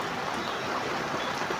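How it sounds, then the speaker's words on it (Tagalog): Heavy rain pours steadily outdoors, a loud, dense hiss that stays constant and unbroken with nothing else standing out. "Problema, malakas yung ulan, kita nyo."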